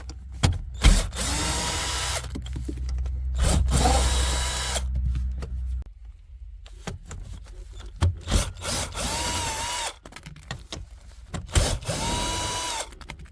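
Power drill spinning out 10 mm bolts from the rear seat of a Mercedes W124 coupe, in several loud whirring bursts of a few seconds each, separated by clanks, pauses and a near-silent gap, heard up close.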